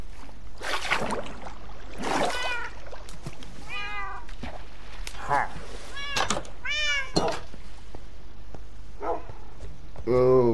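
Minecraft cats meow repeatedly in short rising-falling cries, several close and clear, scattered across a busy game scene with other clicks and thumps alongside.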